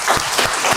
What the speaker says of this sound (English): Paul, clapping go once again.